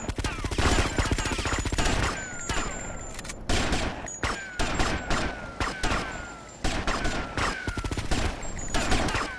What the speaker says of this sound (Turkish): Yukarıdaki de sıkıyor.